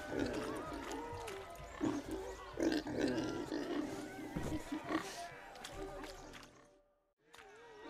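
Pigs oink and grunt inside a pen in The Witcher 3: Hearts of Stone, mixed with in-game voices and ambience. The sound runs steadily before a brief drop to near silence near the end.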